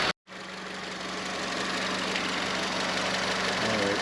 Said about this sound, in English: You can hear the engine, what it sounds like.